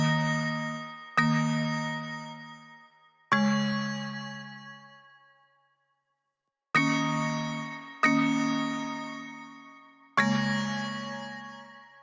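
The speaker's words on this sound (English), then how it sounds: "This synth is a combination of a bell I made in Serum along with a marimba for a wooden kind of sound" A synth bell patch built in Serum and layered with a marimba for a woody tone plays sustained chords with a bright metallic ring. Six struck chords each decay slowly, separated by a pause of near silence midway, with no talk.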